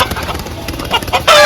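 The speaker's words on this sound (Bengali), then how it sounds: "তো এই যে দেখেন আমাদের আরো মুরগি আছে" Farmyard chickens cluck in quick, close, fairly loud bursts, ending in a sharper, louder call.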